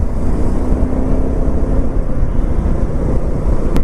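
Busy highway traffic on the Bangalore–Tumkur road toward Goa gives a continuous loud roar of passing vehicles, mixed with wind buffeting the microphone and a low engine rumble throughout.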